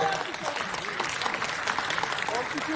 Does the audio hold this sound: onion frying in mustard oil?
no